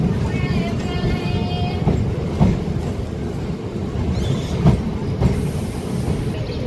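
MEMU local train pulling out of Hindupalli railway station on the Vijayawada to Machilipatnam line, a steady rumble and rattle of carriages heard from inside, with faint voices and a brief squeal early on.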